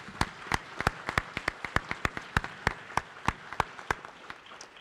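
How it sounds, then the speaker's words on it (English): Sparse applause for a military band at an Army change of responsibility ceremony, with a few people clapping individually in distinct, crisp claps that stay close and fairly quiet. "If we could give a round of applause to the band."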